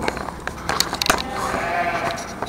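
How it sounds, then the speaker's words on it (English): Sheep bleat from pens at a county fair, several short calls standing out amid crowd chatter, rustling and clatter nearby. "That's sheep."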